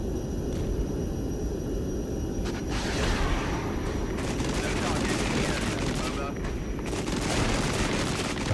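Artillery strike pounding positions in the Cold War strategy game Regiments, fighting East German forces: a dense, continuous roar of explosions and rattling gunfire that stays loud and steady throughout.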